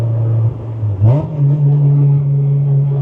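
A 2000 Acura Integra's engine pulled up at wide open throttle: a loud steady idle-like hum, then a sharp rising rev surge about a second in, settling into a higher sustained engine tone, close up.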